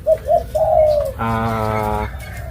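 Doves coo at an outdoor dove-calling competition in Pathum Thani, Thailand, with several short close coos followed by a longer, steady rolling call.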